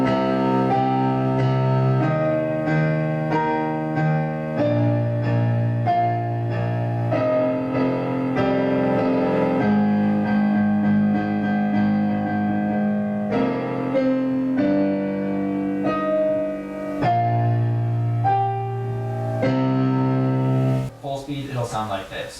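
Piano plays the theme from Shin Gojira in octaves, full, ringing chords with a deep low register moving through a long phrase up close, ending in a short clatter.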